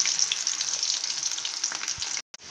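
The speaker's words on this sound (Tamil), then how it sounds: "நம்ம எல்லாத்தையும் நல்லா பொரித்து எடுத்துட்டோம்" Mushroom pakoda-style fritters deep frying in hot oil at a street-food stall, giving a steady, loud, bright sizzle and crackle that runs without a break and drops out briefly near the end.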